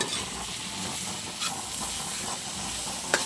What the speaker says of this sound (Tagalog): ginisa nga sardinas with upo